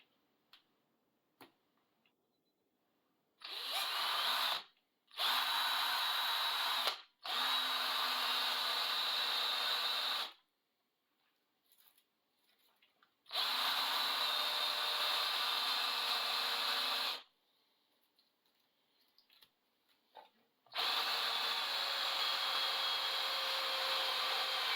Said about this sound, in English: I've decided that it's much easier using a drill